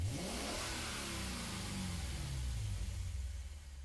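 A Lexus RC F revs hard in Gran Turismo 7, its engine note sweeping up and easing back in a continuous, loud rumble with no talk over it.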